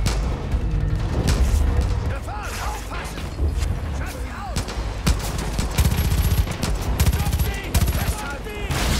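Dense gunfire from enemies in Far Cry 5, with rapid bursts and booms that stay loud and close throughout, broken by sharp impacts as a player voice talks over it.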